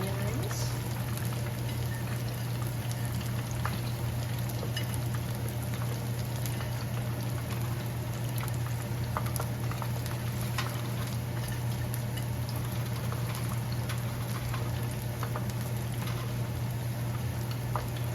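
Onion rings fry in hot oil for a weeknight fish fry, giving a steady, dense bubbling crackle with scattered pops, moderately loud and continuous throughout.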